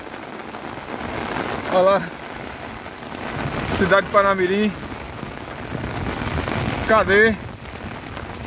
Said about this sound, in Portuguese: Não dá pra ver nada, pessoal. Só chuva. Muita chuva, pessoal.